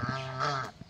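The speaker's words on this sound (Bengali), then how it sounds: "ছাগলও তোমার?" A goat bleats once up close on a farm where geese are kept, a single wavering call lasting most of a second before trailing off.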